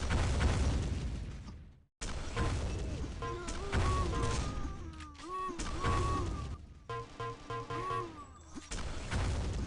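Rocket explosions and rifle and shotgun fire crash through a Sauerbraten first-person shooter duel, loud repeated blasts broken by a brief drop to silence, with pickup chimes and tones between shots.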